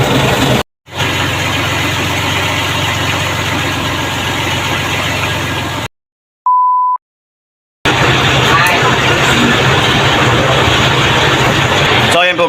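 Boat engine idling at an early-morning dock in Romblon, a loud steady low rumble that runs continuously, drops out briefly, then resumes at the same level.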